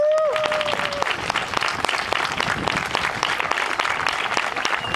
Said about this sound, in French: on doit applaudir la Bélugang qui s'est formée ici